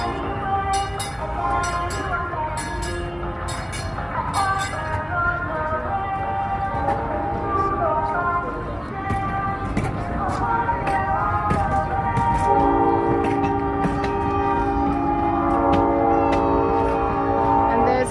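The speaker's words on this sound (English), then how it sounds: "Streetcar." A streetcar rolls along at the Southern California Railway Museum, with a rumbling run, clanking bells and ringing metallic tones, while people talk nearby.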